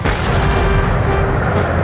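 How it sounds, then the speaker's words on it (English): A Napoleonic-era cannon barrage at Waterloo, heard as a dense, continuous roar of heavy artillery fire with rumbling booms blending into one loud, sustained wall of sound. "Napoleon ordered a barrage of his most powerful cannon."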